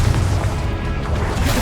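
A Confringo blasting spell in Hogwarts Legacy bursts into a loud, close, booming explosion whose heavy low rumble fills the short moment.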